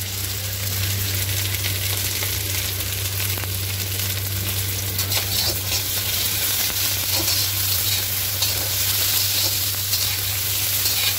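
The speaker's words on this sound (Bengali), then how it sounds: "হালকা একটু ভেজে নেওয়ার পরে এর উপরে মাংসটা দিয়ে দেবো।" Cut tomatoes sprinkled with salt fry in a pan for a chicken curry, giving a constant close hiss and crackle over a low hum, with faint stirring scrapes; no speech.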